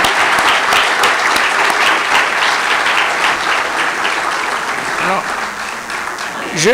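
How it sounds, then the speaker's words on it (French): A crowd applauds at a cocktail launch evening for an international summit, sustained clapping that fades slightly toward the end as a voice begins speaking over it. "je vous demande à nouveau de l'applaudir"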